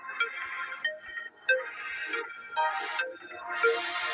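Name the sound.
phone ringtone in video game Clock Tower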